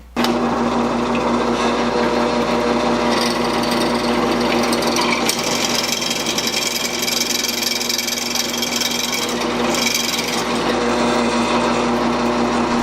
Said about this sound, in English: Today we're going to be drilling the holes for the bearings on the big grinder